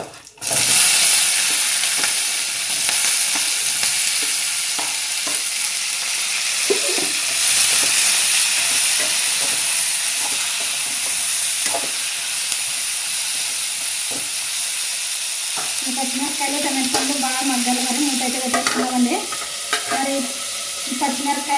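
Green chillies and tomatoes sizzle in hot oil with cumin in a pan, a loud continuous frying hiss with scattered stirring clicks, and a voice speaks near the end.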